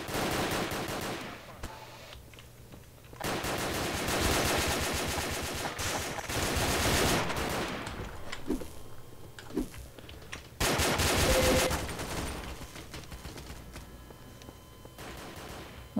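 Rapid automatic gunfire in the Dark RP game, repeated loud bursts of machine-gun fire broken by brief quieter gaps, close and harsh throughout.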